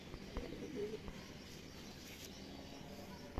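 Pigeon cooing from an old-breed high-class pigeon in a loft setup, soft low coos that sit faint among background noise with a few brief clicks, and no talking.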